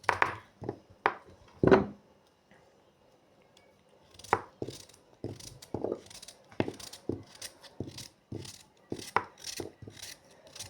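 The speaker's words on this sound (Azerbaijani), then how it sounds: "Belə hamısını axıra qədər doğrayacağam." A knife chops food on a cutting board for a home-cooked borani dish, sharp close knocks coming in uneven bursts with short pauses between them and no talk.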